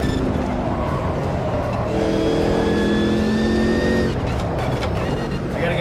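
A race car engine in the sim racing game Automobilista 2 drones steadily and loudly, its tone climbing in pitch as the car accelerates, with faint tire and road noise underneath.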